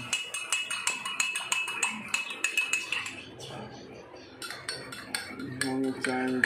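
A metal spoon clinks rhythmically against a cup while stirring honey into tea, with quick repeated taps, a short pause, then more clinking and a brief ringing tone near the end.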